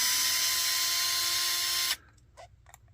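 A power screwdriver whirs steadily and loudly for about two seconds while driving a screw into the rear steering of a Redcat MT-18 RC truck, then stops abruptly, followed by a few faint clicks and handling noises.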